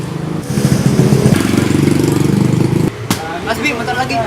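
A motorcycle engine putters loudly nearby with a rapid, steady rhythm before cutting off, followed by some scuffing and clatter.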